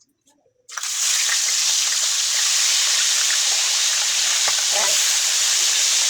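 Galunggong fish frying in a pan of hot oil, a loud steady sizzle bursting in after a brief quiet start and holding on, with a short word spoken near the beginning.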